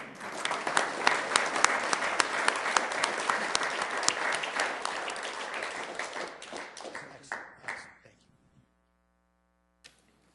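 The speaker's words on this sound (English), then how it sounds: "one final round of applause" An audience at a Sioux Falls city council meeting gives a loud round of applause for award winners. The clapping stays dense for about eight seconds, then thins to scattered claps and stops, leaving near silence with one last clap.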